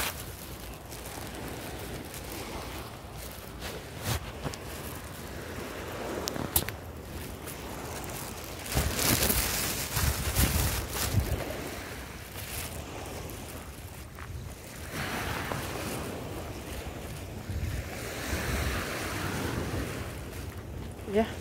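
Waves wash onto a beach in a steady broad rush, with louder surges breaking now and then and gusts of wind buffeting the microphone.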